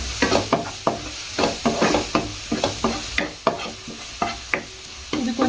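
Chickpea sundal with turmeric being stirred in a pan, with a rhythmic series of close, sharp scrapes and clanks of the spoon over a low sizzle.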